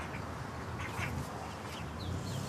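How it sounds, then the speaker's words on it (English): Quacking from a baby runner duck on a farm, a few thin, short calls rising over a steady background hiss of outdoor ambience. "That's my baby runner there, my baby duck there."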